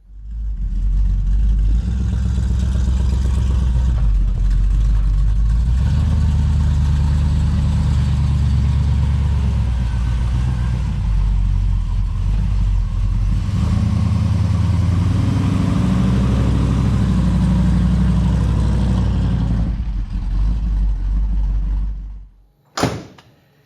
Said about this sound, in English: hear that cam? Nice lopity sound at an idle there.